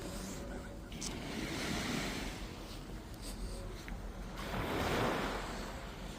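Roaring ocean surf on a cold beach, steady broadband wash with two swelling wave surges, the second louder near the end, mixed with some wind noise against the microphone.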